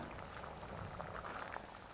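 A pot of radish and moong dal stew bubbling steadily at a quiet level, soft irregular pops and gurgles with no talking.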